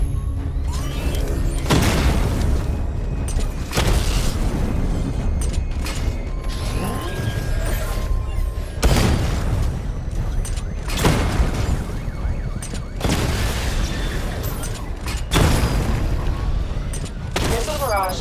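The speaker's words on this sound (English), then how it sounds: "Destroy targets to charge on weapon energy and activate missile barrage" Missile barrages in Batman: Arkham Knight set off a loud, repeated series of booming blasts, mixed with mechanical whirring and clanking. The explosions burst at regular intervals over a constant dense game soundscape.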